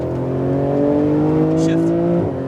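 Porsche GT2 RS engine pulling hard under full throttle, a steady rising drone that climbs in pitch before a brief dip near the end, loud and close from inside the car.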